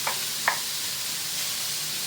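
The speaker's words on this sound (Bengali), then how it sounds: "পেঁয়াজগুলো লাল লাল করে, খুব বেশি লাল নয়, অল্প লাল করে ভেজে নেব।" Onions frying in oil, a continuous even sizzle with two sharp clicks of a spoon against the pan near the start, close and steady without talk.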